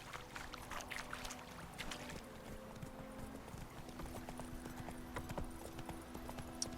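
In The Witcher 3, the horse Roach gallops, its hooves drumming in a rapid, steady clip-clop rhythm that carries on without a break, with low sustained game tones underneath.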